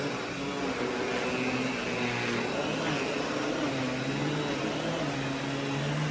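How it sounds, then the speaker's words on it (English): A Miele S8 Cat and Dog vacuum cleaner runs with its power nozzle, giving a steady, even drone of motor and airflow with a faint tonal whine, unbroken and close throughout. "since it's so quiet that I can talk over it, this is the most expensive vacuum I use on a daily basis"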